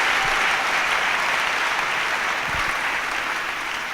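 Congregation in a church applauding together during a healing service, steady dense clapping that fills the space at close range and carries on without a break.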